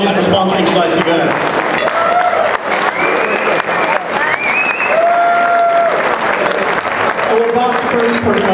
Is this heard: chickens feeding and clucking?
no